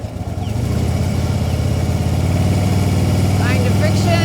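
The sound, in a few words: motorcycle engine revving as rider opens throttle in first gear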